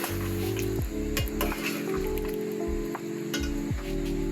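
Beef pieces frying with yogurt in a karahi for kadai gosht, a steady close sizzle throughout with a few faint metallic clinks of stirring and no talking.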